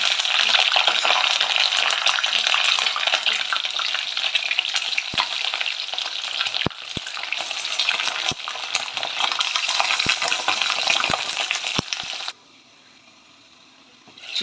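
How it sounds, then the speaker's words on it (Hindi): Chicken pieces frying in hot oil in a kadai for dhaba-style kadai chicken, giving a loud, steady sizzle throughout with a few faint clinks of a utensil, stopping abruptly near the end. "तेल गर्म हो चुका है, इसमें हम डाल देंगे चिकन पहले फ्राई होने के लिए।"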